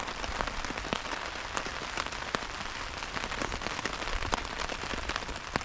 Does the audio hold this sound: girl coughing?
no